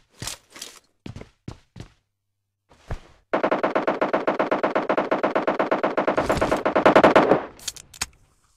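Automatic gunfire in the PUBG Mobile Lite video game: a few scattered single shots and footsteps, then a long rapid burst of machine-gun fire lasting several seconds, loud and close, with a couple of trailing shots after.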